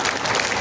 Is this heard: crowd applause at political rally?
yes